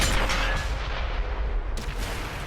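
Heavy tank cannon fire from World of Tanks on console during a city battle, a deep booming blast with a rumbling low tail that fades, then a second crack near the end.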